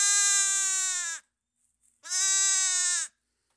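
Two loud, high, wavering bleats from a young female lamb, each about a second long, separated by a short pause, close by with no other sound.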